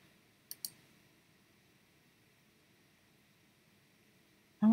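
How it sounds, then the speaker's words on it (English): Two quick computer mouse clicks land close together near the start, crisp and near in a quiet room, followed by a brief louder knock at the very end. "Maybe because I double clicked?"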